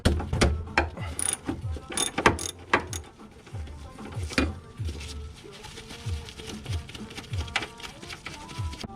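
Ratcheting mechanical clicks and clanks as a 14 mm bolt is worked loose during a GK Tech high-clearance sway bar install, with repeated short bursts and metallic taps close by and no talk.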